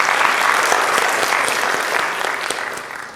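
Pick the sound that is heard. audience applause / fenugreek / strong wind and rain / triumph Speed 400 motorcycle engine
audience applause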